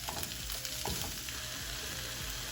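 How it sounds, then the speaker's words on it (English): Crushed almonds and spinach sizzle in a pan over medium-low heat, a close, steady frying hiss with light stirring scrapes. "Now you want to add your crushed or sliced almonds and spinach."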